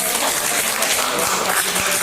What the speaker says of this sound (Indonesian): tepuk tangan dulu untuk Yulia